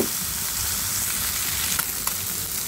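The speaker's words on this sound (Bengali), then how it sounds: "দেখো সবগুলো মাছ কিন্তু আমি সুন্দর করে উল্টে দিয়েছি, আর একটু ভেজে নেব" Small river fish fry steadily in a pan, a constant close sizzle and hiss with two brief sharp pops of spattering oil near the end, and no speech.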